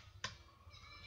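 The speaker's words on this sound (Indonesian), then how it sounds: "kita klik sampai bunyi klik" A RAM module snapping into the memory slot of a ThinkPad X230 laptop, one crisp short click near the start, close and quiet, followed by faint background hiss.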